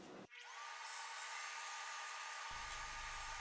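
A scroll saw with a 10 teeth per inch blade cuts laminated wood knife scales, giving a steady, close high whine that starts abruptly and runs on without pause.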